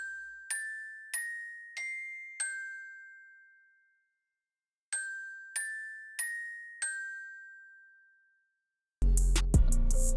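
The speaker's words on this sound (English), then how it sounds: "then I added this Glockenspiel also from Expand 2, and it sounds like this" Glockenspiel sample from the Expand 2 library playing two short phrases of four bright metallic struck notes, each ringing and decaying, with a pause between the phrases and a brief burst of a different loud sound at the end.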